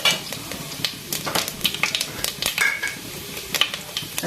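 Fennel seeds, cumin, cinnamon and cloves dropped into hot oil for Chettinad chicken curry, crackling and sizzling with rapid irregular pops and a few scraping stirs, close and without talk.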